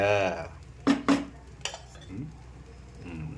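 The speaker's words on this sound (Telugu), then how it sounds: "దోశ కొద్దిగా ఆయిల్ వేసుకొని ఆ పైన దాంట్లోకి ఒక గుడ్డు ఇలా కొట్టి ఇలా వదిలేసామంటే గుడ్డు దోశ" An egg is cracked and dropped onto a dosa on an oiled pan, giving a couple of quick sharp taps and clinks against the pan at close range, with a voice talking over it.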